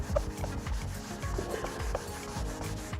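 Cloth rubbing lacquer thinner across a vehicle hardtop to strip wax, a brisk run of rhythmic back-and-forth scrubbing strokes with a squeaky, dry friction sound, close and continuous, with no voices.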